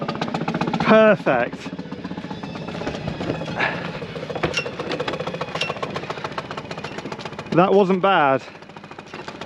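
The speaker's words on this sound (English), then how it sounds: "that's coming alongside as a powerboat using reverse to pull the back in" A powerboat's engine idles with a steady low rumble while the boat reverses its stern in alongside a dock, with people talking over it and brief louder vocal bursts.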